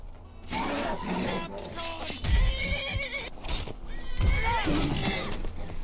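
A horse neighs and whinnies in the Skyrim video game while under attack, with hoof clops, clanking and combat noises mixed in, fairly close and busy.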